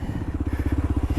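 A Kawasaki KLR 650 single-cylinder motorcycle engine running close by, a steady, rapid low thumping pulse with a rough, even rhythm.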